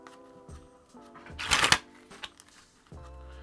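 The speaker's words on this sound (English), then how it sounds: "You're gonna release, shoot the cards up, and then catch it all in one hand, both hands, just like that." A deck of playing cards sprung from one hand to the other, giving a brief, dense flutter of riffling cards at mid-length, with a few softer handling clicks and rustles before and after.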